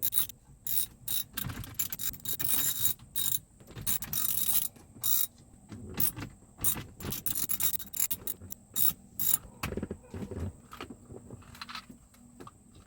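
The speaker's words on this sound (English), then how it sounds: "taking my Torx 20 again, they're 4 bolts that we're gonna be taking out." A Torx 20 driver backing out four bolts from a Mercedes climate control module, giving irregular bursts of close, crisp ratcheting clicks and metallic fiddling with short pauses between turns.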